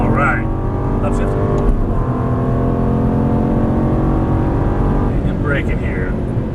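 An Aston Martin GT race car on a track in Las Vegas, its engine droning loud and steady as it accelerates under full throttle, with a quick upshift near the two-second mark while people talk over it.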